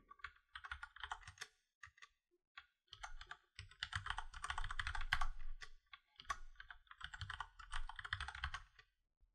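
Fast bursts of keystrokes on a computer keyboard while entering a name and password during Ubuntu setup, with short pauses between clusters of close, crisp clicks and no voices.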